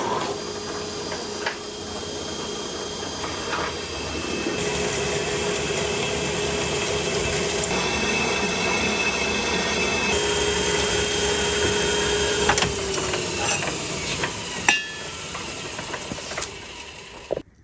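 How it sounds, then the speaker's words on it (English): An old ratcheting metal-cutting saw grinds through steel fence pipe in a machine shop, a sustained droning, rasping cut that holds steady and ends with a few sharp metallic knocks. "We got to cut this piece down. This old weld saw, this thing is a beast."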